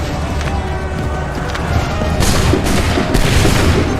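A musket volley in Assassin's Creed 3, loud massed gunfire and booming blasts over a dense battlefield din, with several heavy bursts in the second half.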